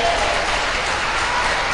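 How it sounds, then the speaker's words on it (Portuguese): Congregation applause during a Portuguese-language church sermon: a brief, loud, continuous wash of clapping from a full room, heard close and steady. "Pode aplaudir o Senhor."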